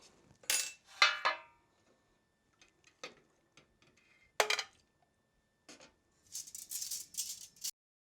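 A small metal brake line part dropped into an old can of carburetor cleaner, making a few sharp metallic clinks and taps with quiet gaps between them, followed by a faint sloshing rustle.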